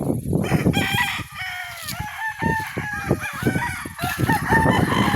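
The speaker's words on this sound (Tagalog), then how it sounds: "Papakita ko po sa inyo yung ibang mga manok." Roosters crowing loudly and repeatedly up close, with hens clucking throughout in a busy flock of about 117 chickens on a farm, no talking.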